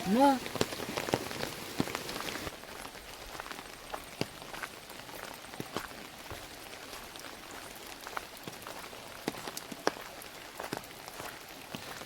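Heavy monsoon rain falls steadily in a flooded Konkan village, a dense continuous hiss of drops hitting surfaces throughout, with a few brief voices and footsteps early on.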